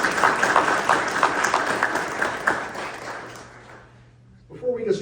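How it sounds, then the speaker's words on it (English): Applause from an audience at the opening of a cyber security summit in Curry County, Oregon, steady clapping that fades out over several seconds before a voice begins speaking. "let's give them all a round of applause"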